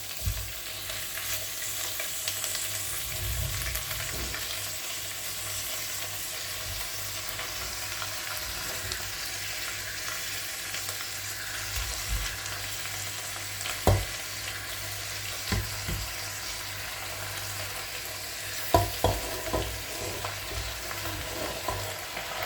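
Fish sizzles steadily in hot oil in a pan while ginataang isda is cooked, a constant bright frying hiss with a few soft clinks and pan knocks, close and continuous with no talking.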